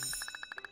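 A school bell in the video game Kindergarten 2 rings in a quick, steady series of bright metallic dings, fairly faint.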